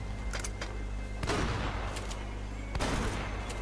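Gunfire in the video game Uncharted, with a shotgun and an AK in play: several sharp shots crack out in quick clusters, including two louder bursts, over a steady low background rumble.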